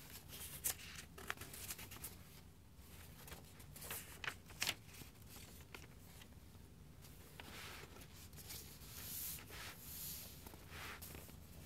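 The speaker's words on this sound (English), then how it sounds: "I will be doing some paper sounds with this book" Close, quiet paper sounds of a book being handled, pages rustling, sliding and flicking in scattered soft bursts with a few sharper crinkles, no voices.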